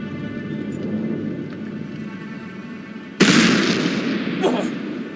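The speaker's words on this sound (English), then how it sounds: "Sounded like a gunshot." A sharp gunshot-like crack in the Black Mirror 3 game bursts out suddenly over a steady ambient background, followed by a lingering noisy tail and a smaller second pop.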